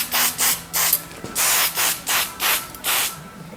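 Spray paint applied to a model railway undercarriage in about eight short hissing bursts with brief gaps between them, close and loud.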